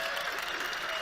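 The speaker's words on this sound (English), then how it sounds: "I've never heard so many people applaud an evasion of a simple question" A crowd applauding an answer in a public debate, an even, continuous patter of many hands clapping throughout, fairly soft and steady, with no voices on top.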